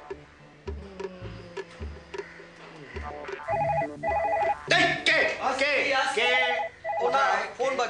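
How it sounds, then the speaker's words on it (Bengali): A telephone rings in a Bengali TV serial scene, its repeated electronic ring bursts coming through clearly over people talking and background music. "ফোন বাজে, ধরুন। ও ফোন বাজছে না?"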